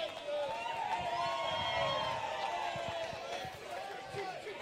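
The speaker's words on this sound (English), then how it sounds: "Ladies and gentlemen, big round of applause." Crowd at a live England rugby event cheering and whooping for the team, many voices rising and falling together, with clapping mixed in and no single voice standing out.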